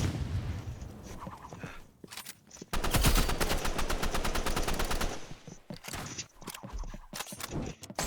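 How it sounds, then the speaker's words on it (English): Rapid gunfire from a sniper rifle in the video game Roblox, loud sustained bursts with short breaks between volleys, heard alone without talk. "You got a sniper rifle, bro."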